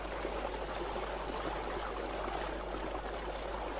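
A fast-running torrent stream in Brazilian frog habitat gives off a constant broadband rush of water current, even and unbroken, heard alone at moderate level.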